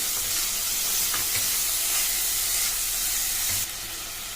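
A spoon stirs a carrot, moong dal and tomato curry in a pan over a constant sizzle. Scraping strokes come at a steady pace, and the frying drops quieter near the end.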